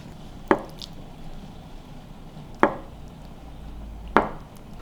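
Three sharp knife chops of ham into half-inch cubes on a cutting board for hot and sour soup, evenly spaced about two seconds apart, crisp and close with a quiet room behind.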